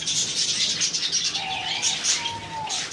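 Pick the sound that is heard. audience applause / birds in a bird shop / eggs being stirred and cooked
birds in a bird shop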